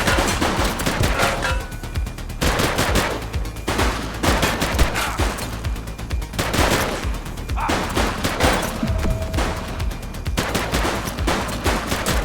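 A police shootout in The Precinct fills the air with loud, continuous gunfire: rapid overlapping shots and bursts keep going without a break, and no one talks.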